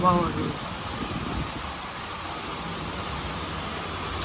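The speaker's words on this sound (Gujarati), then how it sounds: "ફૂલ વરસાદ ચાલુ અવાજ સાંભળજો તમે" Steady rain hisses continuously with a dense, even wash of sound, moderately loud and unbroken throughout.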